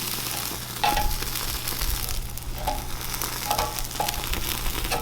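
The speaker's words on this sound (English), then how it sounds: "I'm gonna cook the fish now." Fish frying in a pan gives off a steady close crackling sizzle throughout, with a few brief utensil clicks and scrapes over the continuous hiss.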